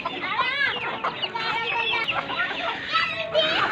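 Several chickens cluck and squawk continuously at close range, overlapping calls filling the clip with busy farmyard chatter.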